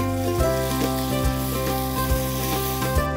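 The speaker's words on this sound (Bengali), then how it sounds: "আমি এখন প্রত্যেকটা চুবিয়ে চুবিয়ে ভেজে নেব।" French toast fries in butter and sunflower oil with a continuous sizzle. A steady tonal hum runs underneath, and soft thumps recur roughly every second.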